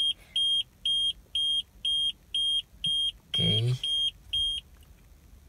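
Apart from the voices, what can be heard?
tire pressure monitoring system (TPMS) low tire warning beep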